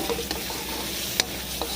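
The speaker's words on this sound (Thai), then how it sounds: "เราก็ค่อยๆเติมหัวกะทิช้อนหัวกะทิในหม้อของเราเนี่ยใส่ลงไปนะคะ" Coconut cream being stirred into a frying Thai curry paste in a pot for a canned-tuna fish curry: a steady close sizzle with a couple of sharp spoon scrapes and clinks against the pot, and no talking.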